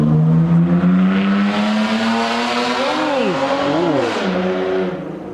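A straight-piped BMW E36 325i revs up close and loud, its engine note climbing steadily before rising and falling in quick blips of throttle toward the end.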